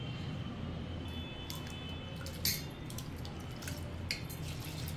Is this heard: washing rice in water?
yes